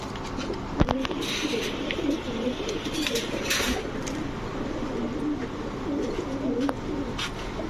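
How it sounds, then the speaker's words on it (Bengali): Racing pigeons coo softly and repeatedly in a loft, a low continuous burbling with a few sharp knocks and rustles nearby. "দেখেন কবুতরগুলা দেখেন"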